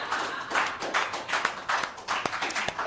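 Audience applause at a live comedy podcast fundraiser finale, a burst of clapping from a crowd of listeners that rises and falls over a few seconds, with scattered sharper individual claps near the end.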